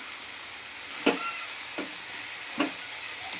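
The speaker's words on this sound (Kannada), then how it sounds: "ಸ್ವಲ್ಪ ಇದು ಎಣ್ಣೆಗೆ ಫ್ರೈ ಆಗಲಿ" Potato curry (palya for puri) frying in oil in a pan, a steady sizzle running throughout with a few soft stirring knocks, heard close with no talk.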